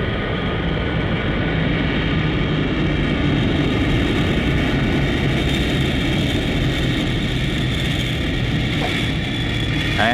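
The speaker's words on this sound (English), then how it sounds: "The plane is landing now, approaching the runway." A fixed-wing airplane comes in to land on a runway, its engine a loud, steady roar with a low rumble that stays constant and close throughout, with no voices.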